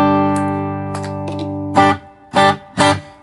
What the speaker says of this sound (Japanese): まずリバーブね。